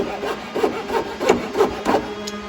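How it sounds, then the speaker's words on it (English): A hand saw rasps through hardwood in a steady rhythm of about seven strokes while cutting a coped joint, close and fairly quiet. "Hear the hardwood biting a little bit."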